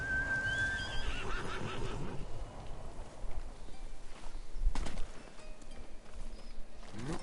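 A horse in Ghost of Tsushima whinnies with a high, wavering neigh at the start, followed by game ambient sounds and soft hoof-like thuds in the background.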